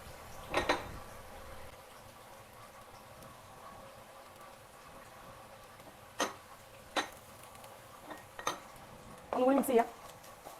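A spoon stirs green chillies into a cooking mixture in a pan at home, giving sparse clinks and knocks of metal against the pan, with a few louder scraping bursts near the start and end over a quiet background.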